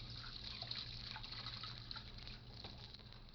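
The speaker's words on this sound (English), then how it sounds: "Then I went over to the washstand and started to wash." Water splashes and trickles steadily at a washstand in a tailor's small back room, as hands scoop and rinse with cool water; a continuous, close wash with no voices.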